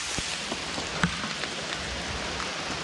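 Steady rain patters down on surfaces in a forest, a dense even hiss with occasional louder drips standing out.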